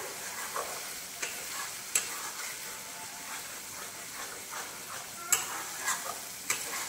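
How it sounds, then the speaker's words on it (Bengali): A spatula keeps stirring spices frying in oil with cashews for a pulao, a steady close sizzle broken by repeated scrapes and light metallic taps against the pan. "মশলা কষানোর সময় সবসময় আমাদেরকে খুন্তি চালাতে হবে"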